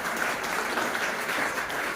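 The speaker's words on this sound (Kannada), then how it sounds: "ಇಟ್ಸ್ ಓಕೆ, ಥ್ಯಾಂಕ್ ಯು, ಜೋರಾದಂತ ಚಪ್ಪಾಳೆ." Audience applause at a Modicare business presentation, a steady, dense wash of clapping from a crowd that fills the whole stretch without pause or speech.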